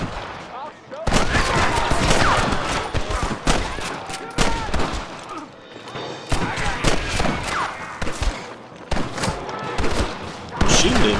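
Gunfire in the Western video game Red Dead Redemption cracks out in loud, repeated shots and volleys during a fight with rustlers, spaced by brief gaps of quieter moments.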